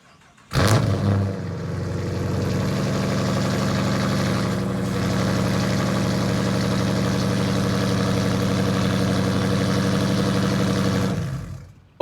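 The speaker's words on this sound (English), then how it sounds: "we're gonna give it a cold start" A 2017 Dodge Charger R/T 5.7L V8 with a full straight-pipe exhaust fires up from a cold start with a sudden bark, then settles into a loud, deep, steady rumbling idle that runs for about eleven seconds before cutting off.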